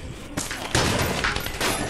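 Minecraft Dungeons fireworks burst in quick succession during combat, producing a cluster of loud, crackling blasts that run together into a dense, sustained barrage.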